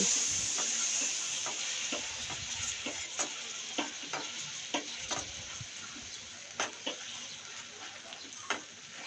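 Milk stirred into melted caramelized sugar in a pan over very low heat for caramel semolina halwa: a soft steady sizzle with repeated light scraping and clinking strokes of a spoon, close up, no talk.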